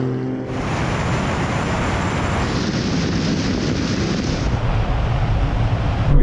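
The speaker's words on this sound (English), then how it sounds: "We still get the nice chirrup from the exhaust on upshift." A BMW M4, Audi RS6 and Alfa Romeo Stelvio QV launch together in a drag race, exhausts roaring loud and continuous with a dense, steady rumble of hard acceleration and no voices over it.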